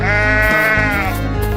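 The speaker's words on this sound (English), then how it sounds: "Sheep." A sheep lets out a single loud, close, wavering bleat that fills the whole moment.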